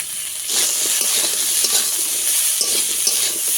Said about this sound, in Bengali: লবণ দিয়ে ভালো করে একটু ভেজে নেব